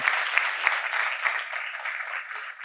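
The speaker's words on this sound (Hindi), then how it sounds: "बस इतनी तालियां थोड़ी जोर से" Church congregation applauding at a Hindi service on a cold December day, a dense steady wash of many hands clapping together, moderately loud and sustained with a few sharper claps standing out.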